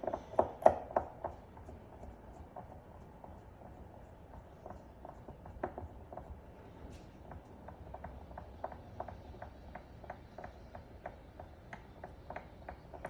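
Small screws are driven into the rear differential of an X Max 8S RC car, giving a quiet, regular series of light ratcheting clicks from a hand tool, close and alone after a few sharper knocks at the start.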